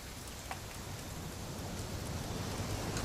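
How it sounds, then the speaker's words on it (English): Rain in the video game What Remains of Edith Finch, a dense, continuous downpour with a low rumbling body and soft patter, holding steady and slightly swelling throughout. "It's gonna rain the whole weekend,"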